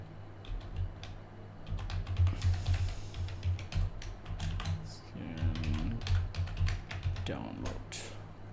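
Quick bursts of typing on a computer keyboard, close and fairly quiet, irregular clusters of taps with short pauses, while someone talks over much of it.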